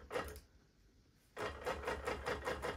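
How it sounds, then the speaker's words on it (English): Sewing machine running basting stitches along the edge of a pieced quilt: a short burst of rapid, even stitching, a pause, then a longer steady run of close mechanical chatter. "baste all along this edge so that I can then remove the pins"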